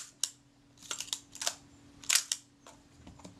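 A Retina Reflex camera shutter being cocked and fired on a workbench, producing a series of sharp mechanical clicks and snaps of varying strength, close and crisp over a faint steady hum.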